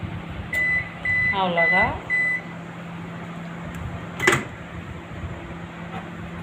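A home microwave oven drying chili peppers hums steadily, then gives a run of short electronic beeps as its two-minute timer finishes, followed by a brief clunk, with someone speaking briefly at the end.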